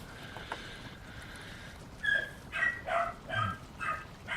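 A caged puppy in a room gives a series of five or six high, yipping barks at a fairly even pace, moderately loud over a constant background hiss.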